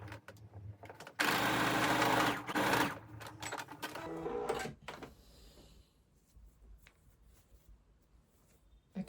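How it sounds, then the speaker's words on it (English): A sewing machine stitches a sleeve seam starting from the rolled hem edge of a garment, running in a loud steady burst for a few seconds, then giving way to quieter handling and rustling of fabric. "to sew it together at the bottom, I'm going to start from the rolled hem edge"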